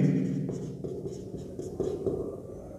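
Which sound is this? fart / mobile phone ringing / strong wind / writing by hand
writing by hand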